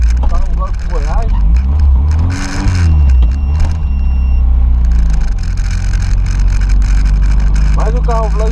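A car engine holds a loud, steady drone near 4,500 RPM, with a rising and falling sweep in pitch partway through, while people talk close by over it.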